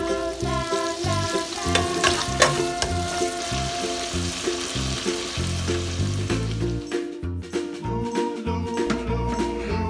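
Shrimp sizzles and crackles in butter in a hot pan, with a utensil scraping and stirring in bursts throughout, close by.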